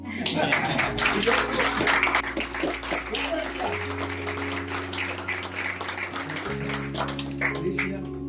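An audience at a panel discussion claps in scattered, uneven bursts, fairly quiet and mixed with murmured voices and a low steady background hum.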